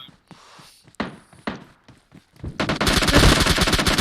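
Gunfire in PUBG Mobile: a few scattered single shots and thumps at first, then a loud continuous burst of rapid automatic fire close by.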